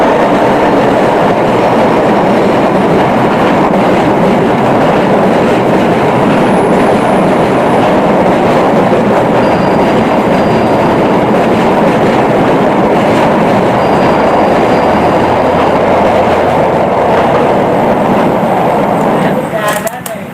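A train thunders loudly and continuously close overhead, a dense rumbling roar with rhythmic rattling that carries on for the whole stretch before easing at the end.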